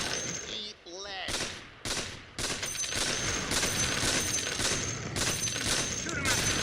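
Rapid automatic gunfire from a shooter video game rattles in dense, loud bursts, with a brief lull early on before nearly continuous firing takes over.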